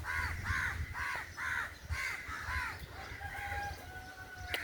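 Chickens in a flock in Mombasa, Kenya: a rooster's repeated crowing calls in a steady run of about seven bursts, with softer clucking and a distant background hum.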